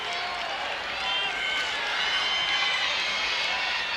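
Crowd in an arena at an NCAA women's basketball tournament game, a steady roar of cheering and clapping at moderate volume, with a commentator talking over it.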